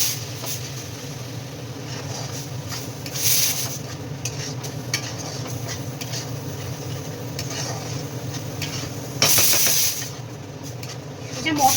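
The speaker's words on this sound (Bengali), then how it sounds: "এটাকে একটু জল দিয়ে নাড়িয়ে নেব মশলাটাকে।" A spice paste stirred with water in a pan, soft continuous scraping and a low simmering sizzle, with two brief louder bursts of noise partway through.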